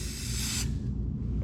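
An aerosol spray paint can hisses in a steady, close burst for about half a second, then the spray stops and a low background rumble carries on.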